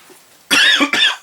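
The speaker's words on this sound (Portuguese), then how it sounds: "não vou fazer um corte aqui por causa de uma tossida" A man gives two sharp, loud coughs in quick succession, close to the microphone, after a moment of near silence.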